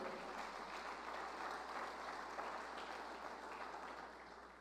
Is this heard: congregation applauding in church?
yes